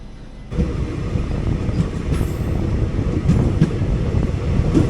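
The 11098 Ernakulam–Pune Poorna Express passenger train runs from Shoranur toward Belagavi via Dudhsagar Falls, its steady loud rail rumble and wheel clatter carrying on throughout with some wind buffeting.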